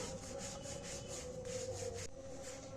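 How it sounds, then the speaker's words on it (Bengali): A rolling pin working floured luchi dough on a board, a faint, steady rubbing and scraping with soft repeated strokes and a low background hum, no voices. "তাই আমি একটু গুঁড়ো দিয়ে বেলছি হালকা গুঁড়ো দিয়ে"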